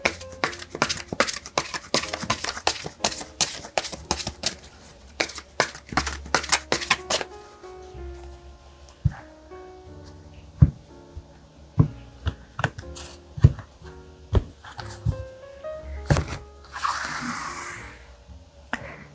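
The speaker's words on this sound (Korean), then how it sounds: "카드 뽑아보도록 하겠습니다" Tarot cards are shuffled and handled in a quiet room, with a dense run of quick riffling and flicking snaps giving way to scattered single card slaps and soft slides, close and crisp.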